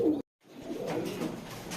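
Female Giribaz high-flyer pigeons, one khaki and one black, coo softly in a short burst, broken by a brief gap of silence before low murmuring resumes.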